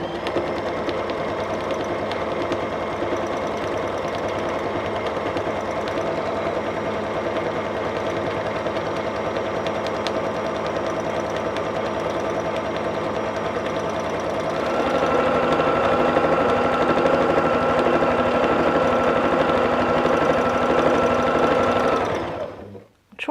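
A sewing machine runs steadily while free-motion quilting feathers, a close, continuous mechanical whir with rapid needle pulsing that grows slightly louder near the end, then stops abruptly.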